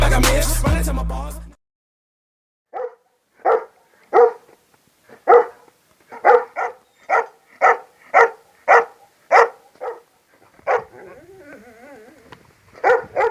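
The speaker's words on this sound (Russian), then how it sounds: "Вон собачка лает." A dog barks outdoors on a snowy plot in frosty weather, a long series of sharp single barks at moderate distance with irregular spacing, clear against a quiet background after a brief burst of music at the start.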